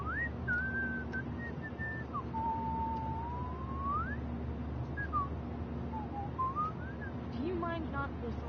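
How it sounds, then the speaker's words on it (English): A character in the video game Life is Strange whistles a wandering, sliding tune over a steady low hum, the whistling continuous and fairly close with a faint rattle near the end. "Do you mind not whistling?"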